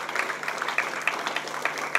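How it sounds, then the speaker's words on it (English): Applause from an audience in an auditorium during a district assembly installation ceremony, a steady, moderately loud patter of many hands clapping continuously throughout. "We can have claps in the auditorium"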